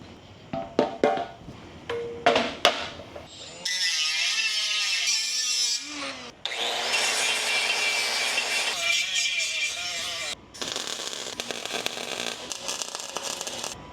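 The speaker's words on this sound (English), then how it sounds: "See, when the welder cooperates" A welder working on a BMW E30 M3, opening with a few sharp clicks and crackles, then long stretches of steady buzzing, hissing arc noise broken by short gaps, loud and close.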